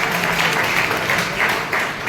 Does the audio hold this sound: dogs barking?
no